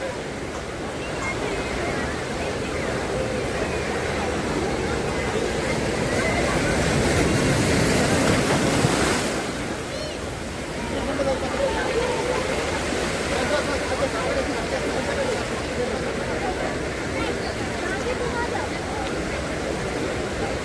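Sea waves wash onto Nagaon beach near Uran, a continuous broad roar of surf that swells to a louder rush midway and then settles back, steady and enveloping with no voices.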